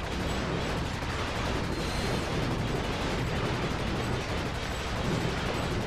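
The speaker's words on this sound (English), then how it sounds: "Getting them to shoot each other." Dense, continuous gunfire and mechanical weapon clatter roar in the Ratchet: Deadlocked video game, loud and unbroken, with no talking.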